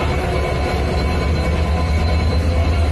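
A passenger train coach at a station platform gives a loud, steady rumble and rolling noise with a low drone throughout, close by and with no speech.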